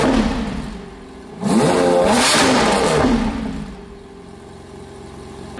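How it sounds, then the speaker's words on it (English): A Lamborghini engine in Corsa mode revving hard nearby, one sharp climbing roar that holds for a couple of seconds, then drops back to a rumbling idle. "I'm gonna put the camera on the outside so we can get a little rev action."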